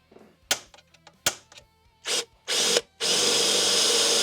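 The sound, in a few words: power drill drilling with drill bit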